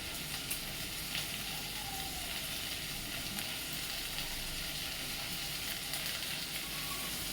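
Tomatoes frying with turmeric and asafoetida in a pot for rasam, a dense continuous sizzle with occasional soft stirring, close and steady, no speech.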